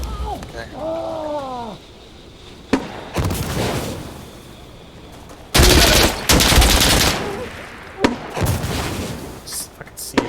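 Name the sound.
gunfire in the video game Insurgency Sandstorm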